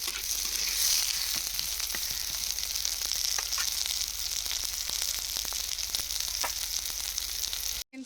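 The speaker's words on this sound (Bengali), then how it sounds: "এখন আমি পেঁয়াজটা একটু নাড়াচাড়া করবো।" Onions frying in a pan for a rural Indian desi chicken dish, a steady close sizzle running throughout with scattered scraping clicks from stirring, cutting off abruptly just before the end.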